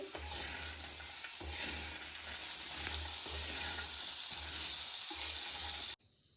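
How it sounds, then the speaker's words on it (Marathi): Soaked chickpea ghugri tossed with chaat masala in a pan, a steady close sizzle with rhythmic stirring scrapes repeating every second or so, then cutting off abruptly near the end. "थोडासा चाट मसाला घालू त्याच्यामध्ये बघा एवढा आता आपण मिक्स करून घेऊ"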